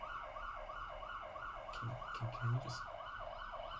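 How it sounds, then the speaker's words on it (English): Emergency vehicle siren wailing outside, a steady rising and falling two-tone cycle heard at a distance under a room voice, with a brief spoken interjection. "It's like they turned on their siren and then drove really, really slowly."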